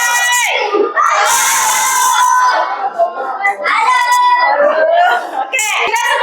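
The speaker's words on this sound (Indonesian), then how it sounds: "Kita kasih aplaus untuk semua kelompok." A classroom of students cheers and shouts loudly after group presentations, excited children's voices filling the room continuously with bursts of yelling rising and falling.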